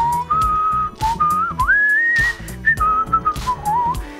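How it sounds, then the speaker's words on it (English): A person whistles a melody loudly and clearly, the tune gliding between sustained notes over busy music playing underneath. "There's nothing like being able to whistle a melody."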